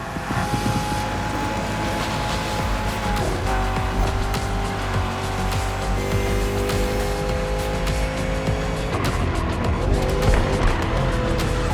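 Muscle car racing in The Crew Motorfest: a loud, steady engine roar with rising and falling pitch, tire squeal and skidding, close and continuous throughout, with no talk.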